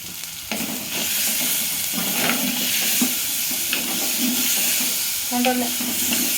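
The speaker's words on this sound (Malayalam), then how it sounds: "കായ അതിലേക്ക് ഇട്ട് ഒന്ന് ഇളക്കി കൊടുക്കുക" Cooked plantain, boiled with ginger, chilli powder, turmeric and salt, being stirred into a curry, giving a continuous close sizzle with repeated scraping and clattering stirs from a spoon in the pan, no speech.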